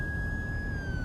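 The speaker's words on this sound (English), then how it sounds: "you hear a siren, scan the scene for emergency vehicles" Police siren in a 1998 driving video game, a steady synthesized tone gliding slowly downward, sounding continuously and fairly loud over a low background rumble with no talk.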